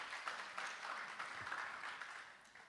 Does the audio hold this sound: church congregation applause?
yes